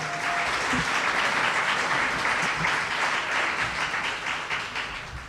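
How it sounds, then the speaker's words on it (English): Audience applause for an honoree at a Women's History Month celebration, continuous and fairly loud clapping from a sizable crowd that holds steady and eases slightly toward the end. "Another round of applause, please,"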